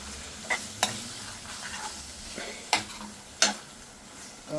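Fried okra with lemon juice is stirred in a pan, with a few distinct scraping strokes over a soft, steady sizzle.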